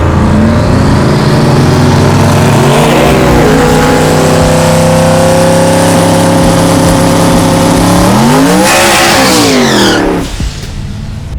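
Twin-turbo 4.8 LS V8 in a GMC Syclone on twin 6262 Precision turbos, revving loud and close, climbing and holding high rpm, dropping briefly near the three-second mark, then sweeping up again before cutting off at the end.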